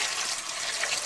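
Water pours steadily into a pot for fish curry, a close, continuous hissing splash with no talking.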